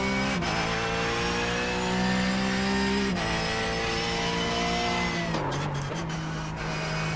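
A Porsche 911 GT3 Cup race car in the iRacing simulator on the Nürburgring Nordschleife, its engine droning loud and constant with pitch shifts through gear changes and brief tire scrubbing near the end.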